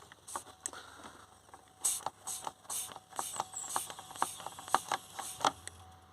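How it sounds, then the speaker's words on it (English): Rapid clicking and ratcheting strokes of a hand vacuum pump on the turbo of a 2.0 CDTi Vauxhall Insignia, irregular mechanical clacks repeating close by, fairly quiet with no talking. "Just going to apply some vacuum."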